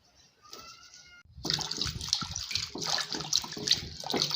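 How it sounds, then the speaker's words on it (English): Scent leaves being washed in water for chicken pepper soup, with splashing and running water that starts softly, then grows louder and stays steady and close. "I'll wash the scent leaf at least twice to remove sand particles."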